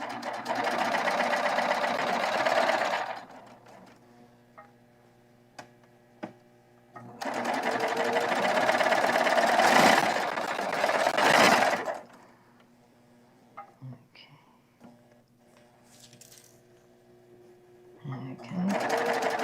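A sewing machine runs through fabric with a fabric guide attached, its motor whirring in three sustained bursts separated by pauses in which people chat nearby.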